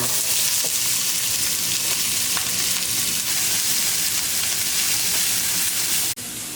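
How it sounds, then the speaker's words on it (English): Steady, loud sizzling of onions frying in a hot pan, a dense continuous crackle with a brief clatter near the end. "then you just drop the onions in"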